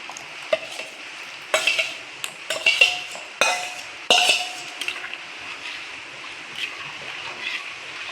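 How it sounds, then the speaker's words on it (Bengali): Soaked semolina is stirred into caramelised milk in a pan, with a spoon knocking and scraping against the metal in irregular bursts over a low bubbling hiss, the strokes thinning out toward the end. "ভিজিয়ে রাখা সুজিটা দিয়ে অনবরত নাড়াচাড়া করব"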